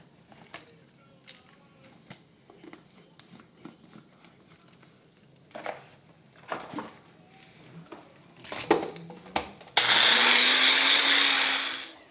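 Quiet handling clicks and knocks give way to a sudden, loud, steady whir as a blender grinds Cap'n Crunch cereal into powder for the last couple of seconds.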